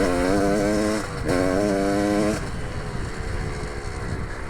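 A 2001 Gas Gas dirt bike engine running rich with a six-speed transmission, its steady buzzing drone climbing in pitch through the gears before settling into a rougher, lower rumble, loud and close.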